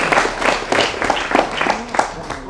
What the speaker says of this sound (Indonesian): Tepuk tangannya mano.